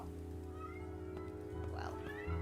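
A cat meows in a video game, two short wavering mews over a steady low hum and background game sound.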